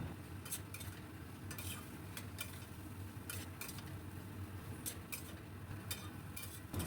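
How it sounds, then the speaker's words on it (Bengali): A spoon stirs a spice mixture together with fried potatoes in a pan, scraping in irregular strokes over a steady low sizzle, close up and with no one talking. "আবারও নাড়াবো"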